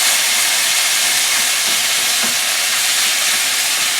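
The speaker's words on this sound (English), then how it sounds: "this pot, I'm steaming some broccoli" Fresh broccoli steams in a covered pot on a stove, giving a loud, constant close-up hiss of escaping steam with faint bubbling beneath, and no one talking.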